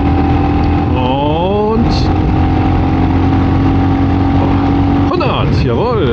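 A Royal Enfield Classic 350 single-cylinder motorcycle pulls in fourth gear with a loud, steady engine drone. A rider speaks over it briefly near the start, and rising pitch sweeps can be heard around the gear changes.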